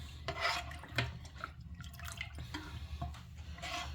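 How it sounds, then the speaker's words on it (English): Cornmeal being stirred into cold water for Jamaican cornmeal porridge, heard as close, wet swishing and dripping strokes in an irregular rhythm, with no voice over it. "So I'm just going to add it to it, guys, in the cold water, and I'm going to mix."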